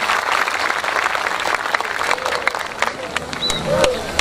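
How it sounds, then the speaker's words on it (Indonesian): A crowd at a religious gathering applauds for Semarang, brisk, loud clapping with scattered voices and cheers mixed in, tapering off near the end. "Tepuk tangan untuk Semarang."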